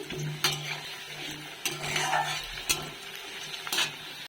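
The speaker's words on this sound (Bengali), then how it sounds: "আলুটাকে একটু ভেজে তুলে রাখবো" Potatoes frying in oil in a kadai, a soft steady sizzle broken by a few sharp clinks and scrapes of a utensil stirring against the pan.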